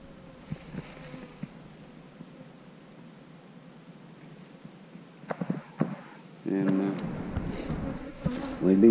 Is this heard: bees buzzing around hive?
yes